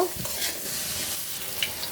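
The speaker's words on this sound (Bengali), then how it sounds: "আলুগুলো সুন্দর করে ভেজে নিব" Potatoes seasoned with turmeric and salt fry in hot oil in a pan, giving a soft, steady sizzle with stirring scrapes, close up and with no voices.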